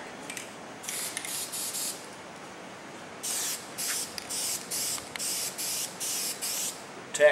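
Aerosol spray paint being applied to an engine cover in an old Sears-style blue, a series of evenly spaced hissing bursts of a second or so each, close and fairly loud with short pauses between them.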